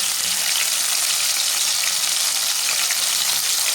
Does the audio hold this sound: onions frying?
yes